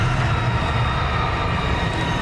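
A train rushes past in the indie horror game Golgotha at a haunted station, a loud, steady rumbling roar with rail noise throughout.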